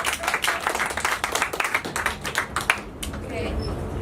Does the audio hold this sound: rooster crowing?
no